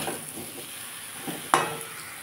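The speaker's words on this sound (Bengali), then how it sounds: "একটু নাড়িয়ে নিই" Shukta vegetables stirred in a pan, a faint, close sizzle with soft scraping and one sharp clink of the spatula against the pan's side partway through.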